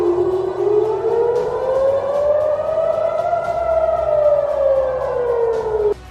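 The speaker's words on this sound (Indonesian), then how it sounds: "auman sirine keamanan terdengar kencang sebagai pertanda datangnya hari kiamat" A loud security siren wails continuously, its pitch rising slowly and then falling before it cuts off.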